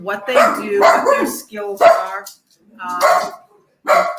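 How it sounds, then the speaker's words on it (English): Pet dog barking indoors during a talk about a fair, its barks blending into a woman's steady speech, several close bursts under and between the talking. "I'm sorry, that's my dog."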